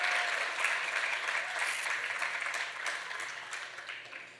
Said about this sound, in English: So let's give Ananya one more round of applause for that.